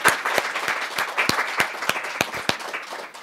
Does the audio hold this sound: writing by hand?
no